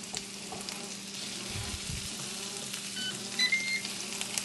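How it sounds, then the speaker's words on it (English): Steady, close sizzling and crackling of an omelette frying on a Ninja Foodi XL electric grill griddle set to 375 degrees, with a few soft scrapes and faint beeps, no voices. "now you're just cooking like you're using a regular griddle or like a regular frying pan"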